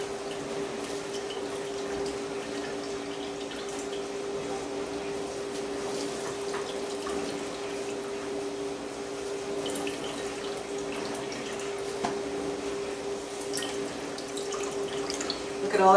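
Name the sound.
liquid draining from cucumber strained through a cloth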